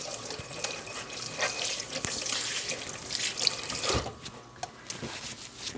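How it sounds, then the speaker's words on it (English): Hands rinsed under a running kitchen tap after straining blueberries, a steady broadband rush of water at moderate volume that stops abruptly near the end, leaving a few faint drips. "let me rinse my hands off here real quick."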